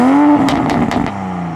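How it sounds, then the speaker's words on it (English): A Toyota Supra's engine and exhaust rev up in a short, loud burst, with a steady harmonic drone punctuated by several sharp throttle blips before settling back toward idle, close by with no talking. "one other distinctive thing in back is the sound of this car"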